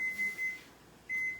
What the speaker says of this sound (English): I need to set that timer up.